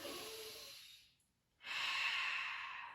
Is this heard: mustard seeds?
no